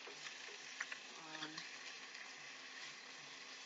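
Chicken browns in a pan with only a very little olive oil, making a soft, steady sizzle with a few faint pops and ticks. The sound stays quiet throughout.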